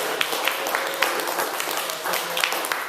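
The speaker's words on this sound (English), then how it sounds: "can we get another round of applause for everybody" Applause from the audience at a yoga-studio literary reading series, a steady wash of many hands clapping that fills the room for a few seconds, fairly close, with scattered sharper claps standing out.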